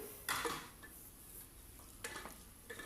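Mutton is stirred with tomatoes in a pot, with a few scraping and clanking strokes of a utensil against the metal over a faint sizzle, all quiet.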